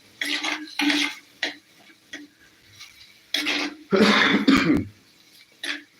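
Several close coughs and throat-clearing bursts, some quick and sharp, separated by short pauses, with light kitchen clatter in between.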